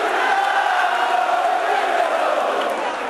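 A large crowd in Catanzaro greets footballer Javier Zanetti with a steady, dense roar of cheering and shouting that holds at full level throughout.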